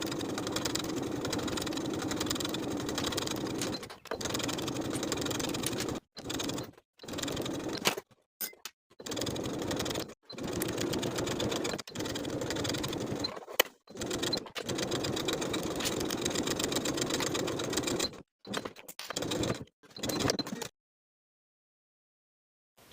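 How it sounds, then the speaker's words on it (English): A sewing machine edge-stitches bias tape along a dress, running in long steady whirring bursts broken by short pauses, close and alone with no talking, ending in silence. "Now we can edge stitch along the open edges of the bias tape"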